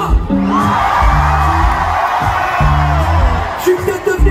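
A large festival crowd at an outdoor concert shouts together on a count, a loud dense roar of many voices lasting several seconds, with pulsing music beneath it.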